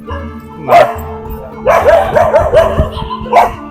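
Dogs bark close by at night in Matheran, first a single bark and then a quick run of several yaps in a row, followed by one more bark.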